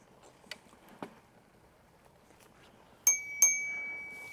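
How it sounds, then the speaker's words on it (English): Two quick rings of a bicycle bell, the second ringing out and fading, after a few soft clicks and taps in a quiet setting. "Listen to that bell."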